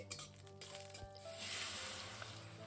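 Dry red chilli, radhuni and black cumin spices sizzle in hot oil in a pan, a steady close hiss with a few soft pops and stirring scrapes.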